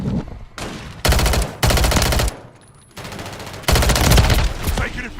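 Dense automatic gunfire from the Call of Duty Warzone video game crackles in loud, sustained bursts separated by short lulls, close and unbroken by speech.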